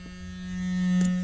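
A PomaBrush electric toothbrush vibrates with a steady, close, loud buzzing hum that swells slightly over about a second, and nobody speaks.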